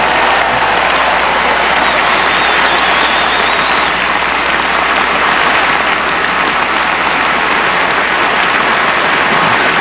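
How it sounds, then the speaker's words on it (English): Loud, dense applause fills a stadium at the 2012 French Open final ceremony at Roland Garros, a steady roar of clapping from a large crowd lasting throughout. "Merci d'applaudir Sara Errani."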